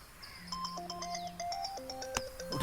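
A phone ringtone plays a bright electronic melody of quick repeating tones, close and clear, with no voices.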